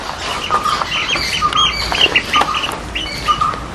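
Chickens cluck and squawk in short, agitated bursts, close and fairly loud, with bright chirpy calls scattered through and a faint background hiss.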